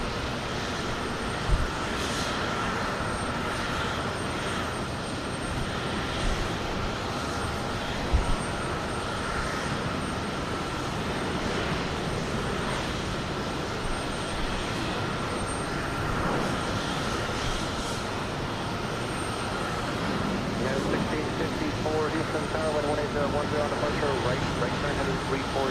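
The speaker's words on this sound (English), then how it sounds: "A nice close-up look at this United Express. Embraer as it taxis slowly by us" A United Express Embraer regional jet taxis slowly past at close range at Houston Intercontinental airport, a steady broadband engine roar and whine with a faint high tone, holding level throughout.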